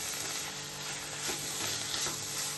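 Loud continuous sizzling from a hot pan of bottle gourd laddu mixture, with occasional soft scraping as it is stirred, close by and without any talking.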